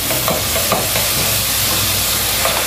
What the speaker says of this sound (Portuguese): Agora que a gente vai misturando bem, vai mexendo pra ela ir fritando